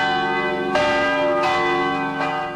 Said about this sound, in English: Bells ring in many churches in Los Angeles and New York.